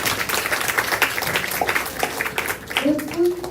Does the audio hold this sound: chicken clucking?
no